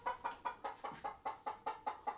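Hen clucking in a henhouse while one lays, a faint, evenly spaced series of about ten soft clucks in steady rhythm, with no talking.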